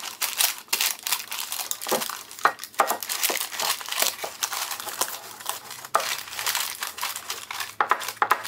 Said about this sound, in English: Going to grease the inside of those papers.